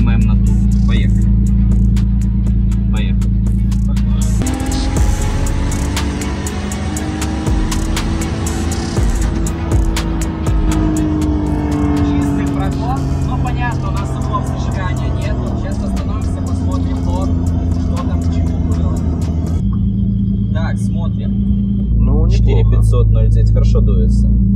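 Tuned car with a JZ engine pulling at full throttle in third gear, a loud sustained engine roar rising in pitch over about fifteen seconds before backing off, with the boost building throughout.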